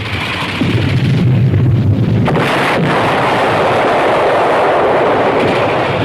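Battle gunfire in a wartime combat drama, a dense, loud roar of shots and blasts rumbling continuously, with no clear voices.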